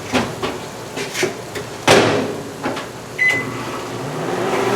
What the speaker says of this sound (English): I'm gonna melt them in the microwave for like 20 seconds